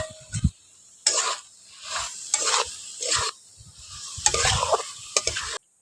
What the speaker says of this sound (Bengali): এবার সিদ্ধ করে রাখা কপিটা দিয়ে দিচ্ছি। সঙ্গে ভেজে রাখা আলুটাও দিয়ে দিচ্ছি।